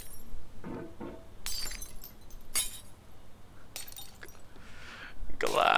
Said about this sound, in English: this is the sound of your window in the